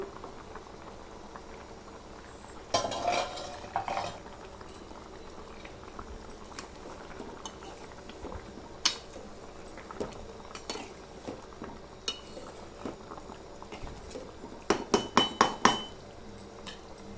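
Fish curry with tamarind is stirred in a pot as it simmers, with quiet bubbling under scattered metallic clinks and scrapes of a utensil against the pot, and a few louder clusters of knocks near the start and end.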